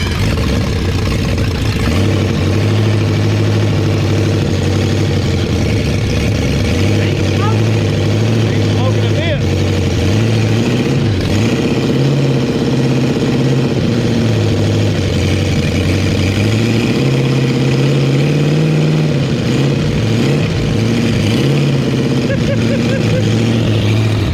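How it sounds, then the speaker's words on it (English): A 1951 Pontiac Chieftain's inline 8-cylinder engine runs steadily at idle with a low, continuous drone, changing pitch slightly as it revs, under people talking nearby. "So we know we got a good inline 8-cylinder."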